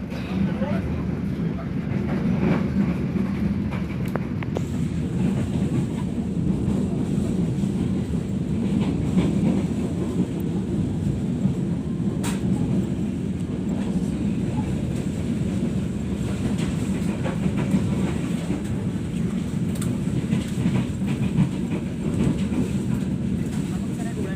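The KA Pandalungan, an executive-class Indonesian long-distance train, runs on its rails with a constant low rumble and a steady roar, heard from inside a carriage, with faint rattles and occasional clicks along the way.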